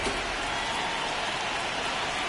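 Rain falling in the baseball video game MLB The Show 26, a steady, even wash of rainfall with no distinct drops or breaks, heard alone throughout.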